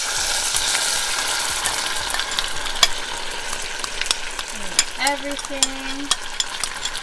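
Pumpkin puree from a can hits browning butter in a pan, giving a steady broadband sizzle with stirring clatter and scraping over it, plus brief talking near the end.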